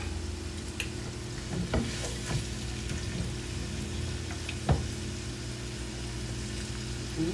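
Chopped vegetables sizzle steadily in a hot pan while being cooked alongside oxtails, with a few louder crackles and stirring scrapes over the continuous frying hiss.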